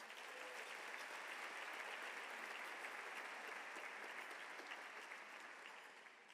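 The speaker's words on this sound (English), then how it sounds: "Let's give them a round of applause" Steady audience applause at a public leadership awards ceremony, a broad even wash of many hands clapping that continues for several seconds and then begins to fade.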